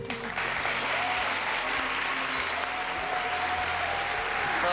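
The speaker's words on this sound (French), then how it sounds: "Ils t'ont plus applaudi que moi" A studio audience at France's Got Talent applauds continuously and loudly throughout, a dense steady wash of clapping with a faint voice or two beneath it.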